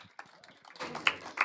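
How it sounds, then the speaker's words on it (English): A few scattered claps from a small audience at an online JavaScript meetup, faint and sparse, rising near the end into two or three distinct sharp hand claps over a quiet background. "Big applause for Bartek."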